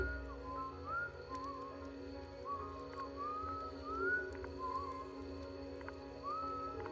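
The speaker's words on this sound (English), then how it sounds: "A slow, eerie tune carried through the trees surrounding his camp." A slow, wavering whistled melody drifts through trees around a camp at night in short rising phrases over a steady low hum and faint background noise, sounding distant and eerie.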